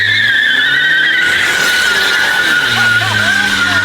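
A truck spinning and skidding its tires, a loud continuous squeal with roaring engine that holds steady across the few seconds, close to the listener.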